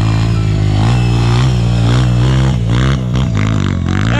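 Trail-race motorcycle engine straining up a steep dirt hill at a trail event in Muniz Freire, a loud continuous drone with shifting revs and clattering, close by throughout.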